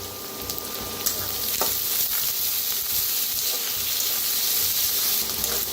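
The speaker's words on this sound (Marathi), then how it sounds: "आता कांदा चांगला भाजलेला आहे" Chopped onion, tender spring onion greens and coriander stems sizzle loudly and steadily in a hot pan, a continuous dense crackle with faint stirring clinks while cooking pitla.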